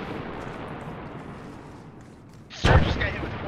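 A single loud mortar shell blast in the military video game Arma, a sudden close boom after a low rumbling background, with a voice speaking over it.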